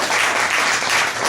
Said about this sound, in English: So you give a cheer for that.